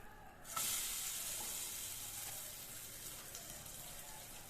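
A bread omelette sizzles steadily in a pan over a medium flame, a continuous soft hiss that starts abruptly and holds at a gentle, even level with no talking.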